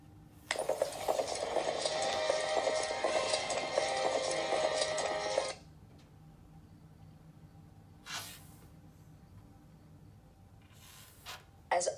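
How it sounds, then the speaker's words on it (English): Horse hooves galloping through snow, a loud steady rush of rapid hoofbeats for several seconds that stops abruptly, followed by quieter background with a few soft bursts. "As Anna rode through the fierce wind, her horse threw her into the snow and ran off back to Arendelle."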